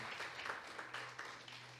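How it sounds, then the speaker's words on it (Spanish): A church congregation applauding during an Easter sermon, a short burst of fairly faint, distant clapping with soft rhythmic pulses. "Denle ese aplauso al victorioso Jesús de Nazaret."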